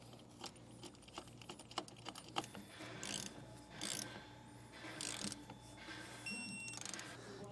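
A hand ratchet clicks in short quiet bursts while tightening the bolts of a Westin EXP truck topper on a 2025 Ford Maverick, with brief pauses and soft tool handling between strokes.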